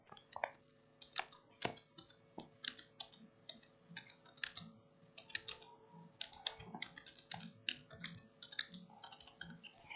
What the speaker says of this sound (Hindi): यहाँ पे आप टाइप कर देते हो कीवर्ड रिसर्च टूल